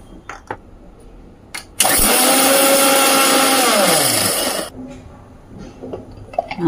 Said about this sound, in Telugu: దీన్ని మిక్సీ పట్టుకొస్తా.